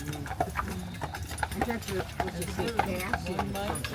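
Carriage horse hooves clip-clop on a steep road on Mackinac Island, a steady rhythmic trot heard close by while someone talks over it.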